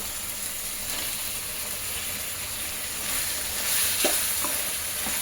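Chicken fry sizzles in a hot pan while being stirred, a constant close crackling hiss with occasional scraping stirs and a slight swell in the sizzle near the end.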